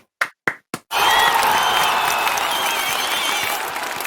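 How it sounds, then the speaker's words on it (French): Three sharp single knocks or claps come first, then an audience bursts into loud, sustained applause with some cheering that slowly eases off. "je demande à ce qu'on l'applaudisse déjà"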